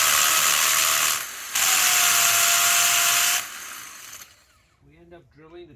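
A power drill bores holes into a boulder in a hole, a loud harsh grinding whine running for several seconds with a short pause, then cutting off before a person speaks.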